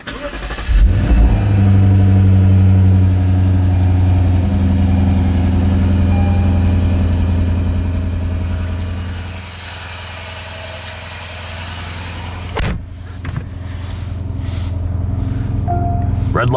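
A Lexus RC-F Track Edition V8 cold-starts with a loud bark and flare, then holds a high steady fast idle before the revs drop to a lower, quieter idle, close and alone.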